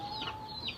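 Chickens being fed give short, soft clucks and chirpy calls, brief and fairly faint against background noise.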